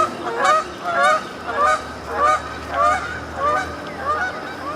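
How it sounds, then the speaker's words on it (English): Ducks or geese honk in repeated bursts as they fly off, about eight loud calls in steady rhythm, fairly near and alone without talk. "And there goes Mr. Duck"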